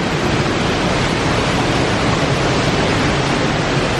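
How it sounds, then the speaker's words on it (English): Water thunders down a waterfall in the Groppenstein gorge in Austria, a loud, dense, unbroken roar filling the air without any speech. "Divine energy coming off this waterfall."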